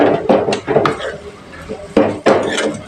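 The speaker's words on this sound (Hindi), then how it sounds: "अब मैं अपनी वेजिटेबल्स और चिकन को ये सारा इसमें मिक्स कर दूंगी इस तरह से" A utensil mixes vegetables and chicken in a cooking pan, giving close, irregular scrapes and clanks against the metal in several short bursts.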